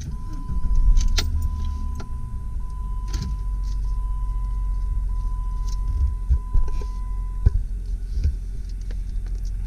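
A 2001 Jeep Grand Cherokee Laredo 4WD with the 4.0L inline-six and 82,000 miles starts up and settles into a steady, close, low rumble, with a few small clicks and knocks over the idle.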